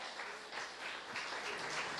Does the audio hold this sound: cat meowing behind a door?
no